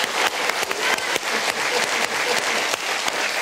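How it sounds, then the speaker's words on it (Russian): A television studio audience applauds, a continuous, even wash of many hands clapping that stays loud and close throughout with no speech over it. "Дмитрий Быков, аплодисменты"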